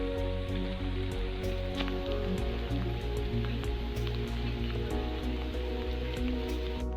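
Steady rain falls at the Bhimbetka rock shelters, a dense continuous patter with scattered drips over a low constant hum, no voices.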